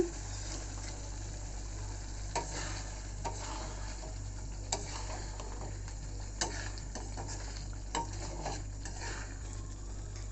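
Egg cooks in frying masala in a pan, making a low, steady sizzle beneath a constant hum, with occasional light clinks and taps of a utensil against the pan.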